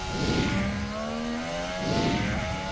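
Formula 1 race cars at the Hungarian Grand Prix in Budapest. Two loud engine passes scream by close, each rising and falling in pitch, with no talk over them.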